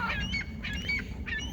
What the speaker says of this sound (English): So we have the geese and we have the seagull.